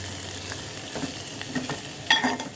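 Potatoes frying in oil in a pan, a soft continuous sizzle with occasional light stirring scrapes and a brighter crackle near the end.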